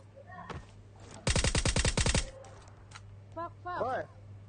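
Rapid burst of automatic gunfire in the PUBG Mobile battle royale game, about a dozen loud, evenly spaced shots packed into roughly a second, with a steady hum beneath and brief voices and game sounds before and after.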